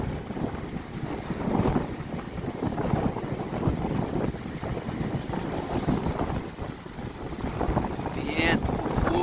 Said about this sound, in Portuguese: Vento com força.